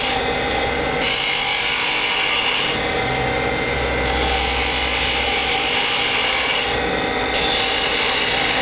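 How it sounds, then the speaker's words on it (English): A parting tool on a wood lathe scrapes steadily into spinning wood while cutting a marking groove for a pen, a continuous close rasping with brief brighter bursts of cutting. "I'm going to grab a parting tool and make a mark here"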